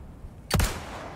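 A single loud gunshot from the video game Resident Evil 4, a sharp close crack with a short ringing tail fading over a quiet background.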